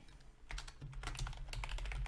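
Quiet keystrokes clatter on a computer keyboard in a short, irregular burst of typing, faint and close, with no speech.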